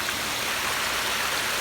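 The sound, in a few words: water flowing down a pondless backyard waterfall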